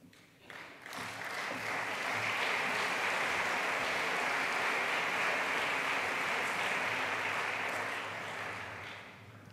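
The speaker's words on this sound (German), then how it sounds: "Applaus" Lecture-hall audience applauds at a university talk, a dense, steady wash of clapping that swells quickly, holds loud for several seconds, then tapers off at the end.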